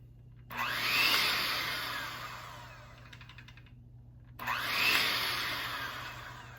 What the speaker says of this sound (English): this is gonna be the last cup that I can actually use my mixer for